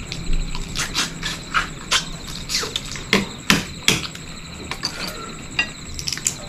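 Cooked crab shells are pounded open to eat, a series of about a dozen sharp cracking knocks at an uneven rhythm, close and fairly loud over a faint background hum.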